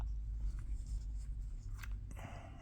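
A carving knife scrapes and cuts around a wooden rolling pin in short, soft strokes, quiet and close over a low steady hum.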